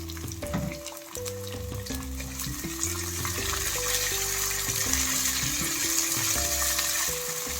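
Onions and green chillies fry in hot oil, giving a steady, dense sizzle that lasts throughout, with no talking over it.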